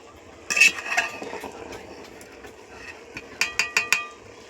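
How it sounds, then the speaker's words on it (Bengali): A spoon stirring pulao in a pot with the lid off, scraping and clinking against the metal in bursts, ending with four quick taps on the rim, close and clear with no talking. "এই তো ঢাকাটা সরিয়ে এখন আমি একটু নেড়ে দিচ্ছি।"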